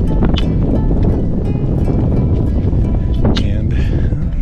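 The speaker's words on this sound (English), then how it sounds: "It's a little breezy up here." Strong wind buffets a mountain peak in chilly conditions on a Connecticut hike, a steady, loud roar of gusts against the microphone, with a few faint higher sounds over it.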